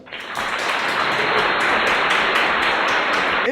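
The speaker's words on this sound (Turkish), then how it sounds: "Şimdi de yepyeni bir konuk Zeynep Ela geliyor alkışlarla" Applause from a group of third-grade schoolchildren welcoming a new guest, a dense steady clapping that starts abruptly and holds loud and close to the end.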